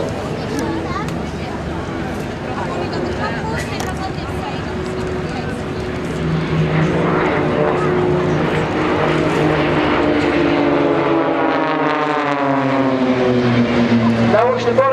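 Propeller aircraft of the Blades aerobatic team flying a double-cross manoeuvre at Waddington Airshow, engines droning and rising in pitch as they pass close by, with a commentator talking over the sound throughout.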